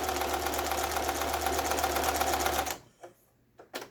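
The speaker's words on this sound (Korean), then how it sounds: "그 다음에 5번에 이제 지그잭 바느질이라고" A household sewing machine running a zigzag stitch hums with a steady rapid mechanical chatter, loud and close, then stops abruptly, leaving a few soft clicks and handling knocks.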